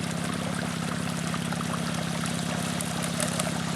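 Water rushes steadily through a stream sluice lined with Razorback matting during a gold-prospecting test, a loud, continuous close-up flow with an engine-like hum beneath it and no talking.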